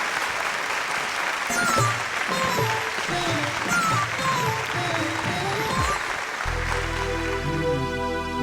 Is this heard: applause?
yes